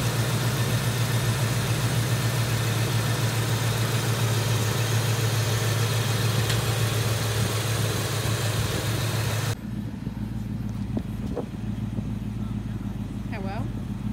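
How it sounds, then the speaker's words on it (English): A car engine with an exhaust leak idles in a steady, loud, rough rumble close by, its sound shifting and thinning partway through. "I have an exhaust leak."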